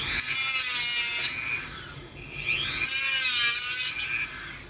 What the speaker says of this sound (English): But you know what can account for it? A Dremel.